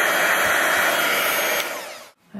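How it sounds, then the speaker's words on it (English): A heat gun drying a piece of fabric being embossed, a steady loud blowing roar close by that cuts off abruptly near the end, leaving brief quiet. "we can get our heat gun and dry that"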